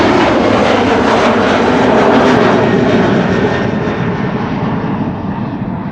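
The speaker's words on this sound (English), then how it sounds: "This is German Airways flying on behalf of KLM, flight" A KLM-operated jet roaring on departure from Amsterdam Schiphol, a loud broadband engine rumble close by that swells slightly and then slowly fades as it climbs away.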